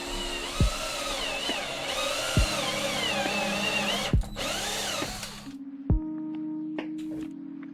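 Power drill with a step drill bit boring a 5/8-inch hole for a cable gland in a pixel controller enclosure; a sustained high whine with periodic clunks as the bit steps, then the motor winds down.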